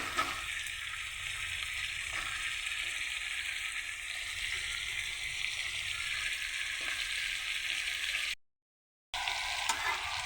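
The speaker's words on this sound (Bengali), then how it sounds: "এখন আমি এটাকে কিছুক্ষণ ভেজে নেব" Ridge gourd and tomato, salted, fry in a pan with a steady, close sizzle that holds evenly throughout, broken by a brief drop to silence near the end before the frying resumes.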